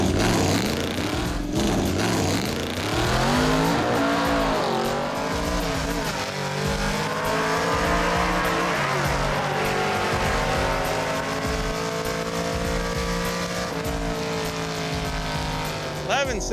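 Drag car engine roaring and revving hard as it launches down the strip and accelerates away, loud and continuous with rising pitch sweeps and tire noise, briefly bogging off the line.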